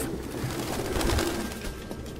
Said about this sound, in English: All these damn pigeons, move!